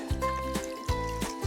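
Water dripping and trickling off a blooming onion just lifted out of ice water, a few soft splashes and dribbles at close range over a steady background hum.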